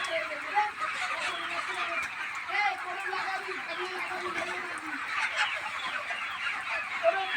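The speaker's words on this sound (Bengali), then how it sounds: "মুরগির খাবার মারছে দেখুন।" Several chickens cluck repeatedly at close range as they peck at feed, with a constant busy background murmur underneath.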